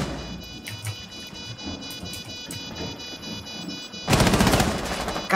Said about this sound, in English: God, the fucking recoil on that gun